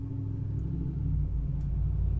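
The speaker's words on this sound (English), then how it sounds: "Wait till the truck drives by so you can hear it." A truck passes as a deep, steady rumble that swells slightly toward the middle and stays loud and close for the whole stretch, with no voices over it.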